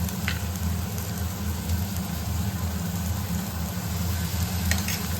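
Cumin, coriander, dried chili, ginger and a little garlic sizzle in hot oil in a pan, a constant frying hiss with faint stirring scrapes and no talking.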